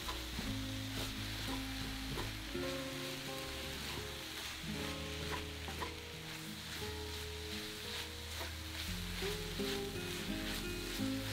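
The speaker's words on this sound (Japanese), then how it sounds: "火を弱めて水分を飛ばしながら 4、5 分炒めて味を含ませます。" Okara, soy pulp, stir-frying in a pan over low heat, with a continuous soft sizzle and scraping stirring strokes, moderately quiet and with no one talking.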